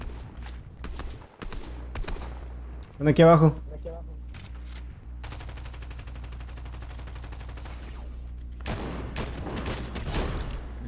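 Bursts of gunfire ring out in a Fortnite match, a sharp rapid volley near the middle and further distant shots later, while people talk casually over the game sounds.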